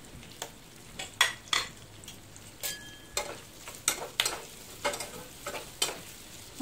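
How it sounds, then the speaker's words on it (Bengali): Spices frying in oil in a pan for a Bengali chilli chicken kofta dish, with a low steady sizzle under repeated sharp scrapes and clinks as a utensil stirs against the metal, close and clear. "মশলাগুলো আরেকবার ভেজে নিলাম।"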